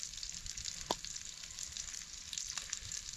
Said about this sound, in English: So we got the brats cooking and the taters cooking.